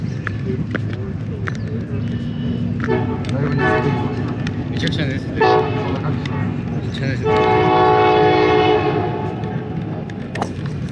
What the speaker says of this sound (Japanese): 珍しいね電車。